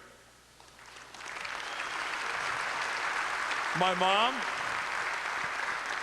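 Banquet audience at an alumni dinner clapping for a speaker's father, a steady wash of applause swelling after a quiet start and continuing to the end, with a voice speaking briefly over it.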